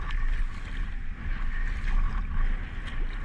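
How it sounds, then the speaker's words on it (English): Strong wind gusts sweep across open water around a kayak at Deception Pass on a windy day, a loud, steady, low buffeting rumble with a broad hiss that stays constant throughout. "That was actually a big gust."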